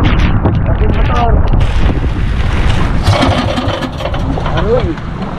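A boat motor runs on the open sea in a storm, its engine drone mixed with heavy wind buffeting and crashing water, loud and close throughout while people shout over it.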